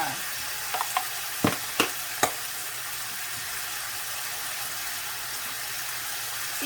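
Chicken with ginger stir-frying in a hot pan, a steady loud sizzle with a few sharp scrapes and clacks of a spatula early on, continuous and close.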